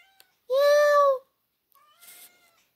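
A talkative cat named Delilah meows loudly and close up in one long, drawn-out call, followed after a pause by a shorter, quieter meow.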